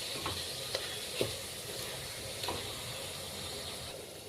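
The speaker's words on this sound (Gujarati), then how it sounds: "હવે આપણે તેને હલાવી લઈશું।" Mixed vegetables with spices and asafoetida being stirred in a pan, a soft steady sizzle with a few faint scraping strokes of the spoon, no talking.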